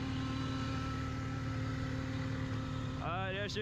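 A supercharged 2003 Mazda NB MX-5 Miata hums steadily from inside the car while driving, a constant low engine drone with road noise throughout and a brief rising whine near the end.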